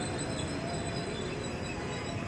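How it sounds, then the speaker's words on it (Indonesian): A Tokyo Metro 6000 series KRL commuter electric train of ten cars passes through Lenteng Agung station in Jakarta, giving a steady, loud, close rumble of wheels and motors with no break. "Ada Tokyo Metro seri 6132, rangkaiannya 10 kereta."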